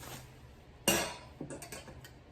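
A glass insert is handled inside a decorative H&M vase, giving a sharp clink followed by a few lighter taps and knocks of glass against ceramic, close and fairly loud.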